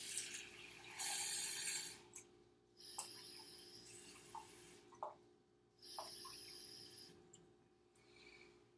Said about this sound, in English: I am going to measure out the water in my liquid measuring cup